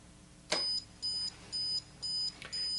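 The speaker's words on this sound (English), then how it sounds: "Once the Arduino sees light, then it turns on the burglar alarm." An Arduino-triggered homemade burglar alarm sounds a regular series of five short, evenly spaced electronic beeps, with a sharp click at the start and another near the end.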